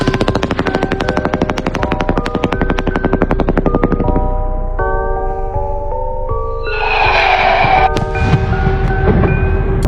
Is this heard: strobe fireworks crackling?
yes